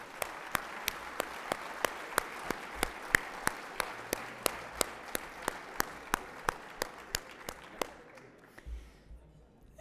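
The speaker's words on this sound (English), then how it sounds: "Please join me in giving them all another round of applause." An audience at a debate event claps, though only a few sharp, evenly spaced claps stand out clearly, fading toward the end against a quiet room.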